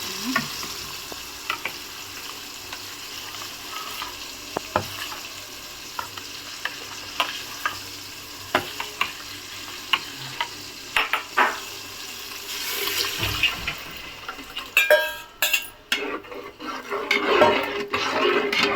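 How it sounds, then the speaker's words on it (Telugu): Tomato and onion frying in oil in a pan, heard as a steady sizzle with scattered stirring clicks and scrapes, growing busier and louder toward the end. "టమాటో ఎర్రగడ్డ బాగా మనకి నూనెలో వాడుతుందండి"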